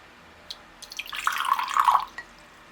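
Water pours from the spout of a handmade glazed pottery vase in a short, bright trickle of about a second and a half, preceded and followed by a few light drips, close and otherwise quiet.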